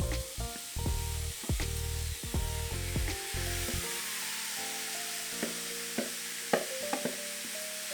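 Ground beef fries in a pan with chopped garlic, a steady sizzle under repeated scraping strokes of a utensil stirring and breaking up the meat, close and fairly loud.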